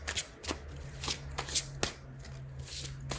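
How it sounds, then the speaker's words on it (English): A deck of tarot cards is shuffled by hand in a steady series of close, crisp riffling bursts about every half second, with no talking over it. "I'm not the best shuffler, but the right cards always come out."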